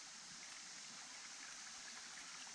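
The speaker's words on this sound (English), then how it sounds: "I can just hear the trickle of the creek out there." Faint, steady trickling of a small creek, soft and continuous in the background with no voices.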